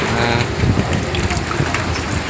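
Floodwater rushes through a street in Bulacan between Bocaue and Marilao, a loud, dense, unbroken gushing roar close by.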